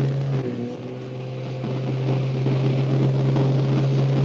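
A car engine runs loudly and steadily, a constant low drone with a tonal hum that holds throughout, close to the microphone and with no talking over it; the car has seemed unusually loud lately.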